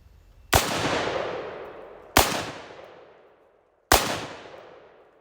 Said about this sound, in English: I'm gonna just put a few rounds down